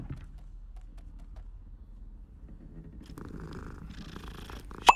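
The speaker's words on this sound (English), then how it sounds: "Ooh, a kitty." A cat purring in the Hogwarts Legacy video game, a soft, low, steady rumble close by, with faint game sounds rising near the end and a brief sharp tap at the very end.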